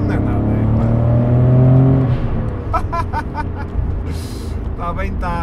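Nissan 300ZX twin turbo engine droning while driving, loud and steady at first, then easing off as someone talks over the lower cabin hum.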